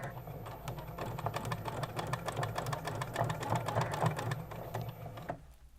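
A sewing machine runs steadily, stitching a sleeve seam with a fast, even mechanical clatter close up, then stops abruptly near the end.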